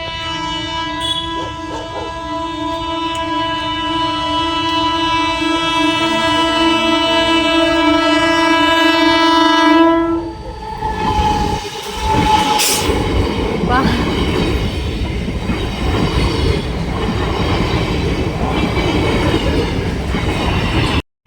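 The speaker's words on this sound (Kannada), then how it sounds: "ಅಲ್ಲಿ ಟ್ರೈನ್ ಬರ್ತಾ ಇದೆ, ಲೈಟ್ ಕಾಣಿಸ್ತಾ ಇದೆ, ಅಂದರೆ ಟ್ರೈನ್ ಬರ್ತಾ ಇದೆ ಅಂತ" A loud sustained train horn blares, then a train rushes past close by with rumbling, rattling wheels that continue steadily.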